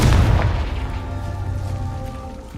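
A Confringo spell blast in Hogwarts Legacy erupts as a single loud booming explosion, its heavy rumble fading out over a couple of seconds.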